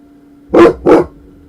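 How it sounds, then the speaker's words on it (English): A dog in the video game Tainted Grail gives two loud, close barks in quick succession, then falls quiet with no talk. "You don't need to be barking."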